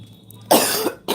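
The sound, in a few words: woman clearing her throat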